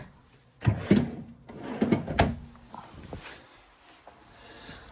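A few wooden drawers in an RV fifth-wheel trailer (2026 Cougar 29MBD) slide open and shut in quick succession, with sharp knocks and soft scraping, fairly close, followed by quieter room noise.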